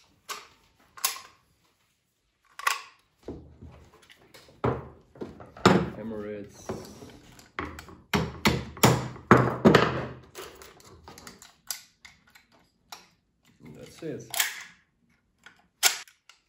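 Plastic clicks, taps and knocks ring out as airsoft M4 upper and lower receivers are fitted together, a sparse, irregular string of close, sharp handling sounds separated by quiet gaps.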